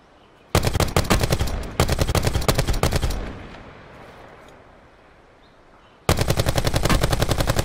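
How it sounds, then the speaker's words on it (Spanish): Gunfire from the battle royale game Call of Duty Blackout: two dense bursts of rapid automatic shots, loud and close, roughly a second long each, then a fading rumble and quiet before another sustained burst at the end. "Están disparando a mí"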